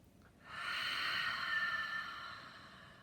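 A deep nasal breath drawn in during a guided breathing exercise, a steady airy hiss that swells after a brief pause, holds for about a second and a half, then slowly fades, close and alone without talk.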